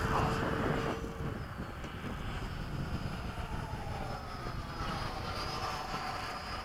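An F-15 jet's engine fan whines and roars in a broad, steady rush with faint rising tonal whistles, moderately distant and continuous for the whole stretch, with a brief faint voice near the start.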